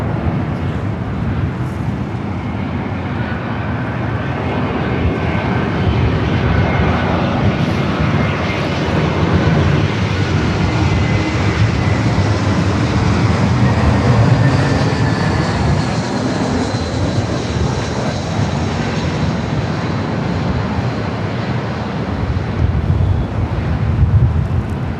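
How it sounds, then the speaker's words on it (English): An American airliner lands at Los Angeles International Airport, its jet engine roar steady and loud for the whole stretch, with some wind buffeting and no talking. "there's an American plane landing"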